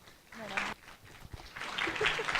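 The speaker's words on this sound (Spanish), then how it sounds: "Por favor, recibamos con un aplauso a la doctora Pamela Castro Suárez." An audience at an architecture faculty event applauds to welcome a speaker, clapping that starts scattered and swells louder near the end, with faint voices mixed underneath.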